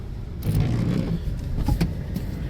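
A car engine runs steadily at close range after starting, a low continuous rumble with a faint mechanical clatter layered on top. No one speaks.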